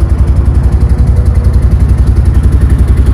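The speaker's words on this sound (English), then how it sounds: "It's your rear engine" Massimo Warrior 1000X UTV rear engine idling close by, a loud, steady, pulsing low rumble with a rhythmic throb and light mechanical clatter, no talking.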